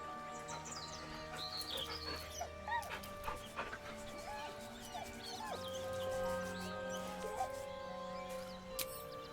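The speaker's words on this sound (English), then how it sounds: "With a deep, heartbroken whine, the dog bows his head. The dog whimpers nervously," A dog in a video game whimpers and whines in a soft, high-pitched way, with repeated short whines and yips over quiet background music.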